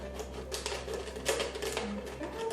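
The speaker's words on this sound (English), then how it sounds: "put the scissors through and cut all the way around" Scissors cut around a plastic bottle to make a recycled piggy bank, giving a run of irregular crisp snips and crinkling plastic crackles, close and fairly quiet.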